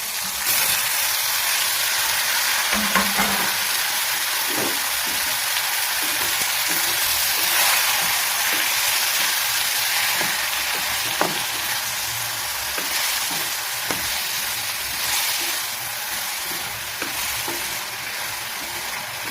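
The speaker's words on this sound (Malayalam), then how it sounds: "അരിഞ്ഞു വെച്ച തക്കാളി അതിലോട്ട് ഇടാം." Chopped tomato goes into a pan of frying chena puli curry made with elephant foot yam, a continuous close sizzle with occasional stirring clatter and a brief splash as the pieces land.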